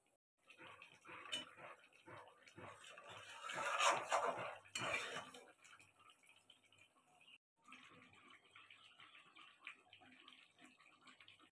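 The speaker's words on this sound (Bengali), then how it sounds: "আমি গরম জল দিয়ে দিলাম।" Hot water poured into a pot of cooking mutton, a bubbling, splashing pour with metallic clinks of pot and utensils, fairly quiet and close, broken by a short pause before the sizzle and stirring resume.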